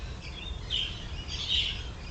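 Birds chirp outdoors in two short bright bursts over a low background rumble, faint and somewhat distant.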